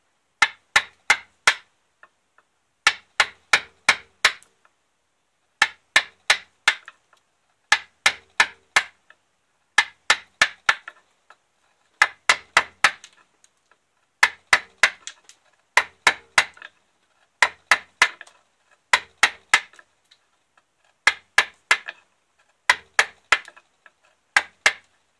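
A chisel carving wood for a lizard-shaped bowl gives crisp, close taps in clusters of three or four, repeating at a steady rhythm with short quiet gaps between groups.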